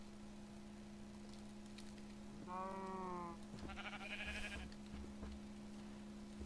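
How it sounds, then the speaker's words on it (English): Sheep in the Minecraft video game bleat twice in succession, short wavering cries heard faintly over a steady low hum. "I could just breed a bunch of sheep and just snip all the way through them."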